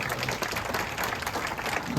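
A crowd at a political rally applauds, a steady wash of clapping lasting about two seconds with talking mixed in.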